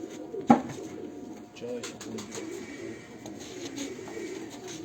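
Sialkoti pigeons coo softly and repeatedly close by, with a brief word spoken over them and a sharp knock early on.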